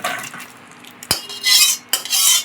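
Cauliflower roast in a thin, runny gravy poured and scraped from a pan into a serving dish, with metal spoon clinks and scraping bursts and a short sharp knock partway through. Sounds are close, with no talking.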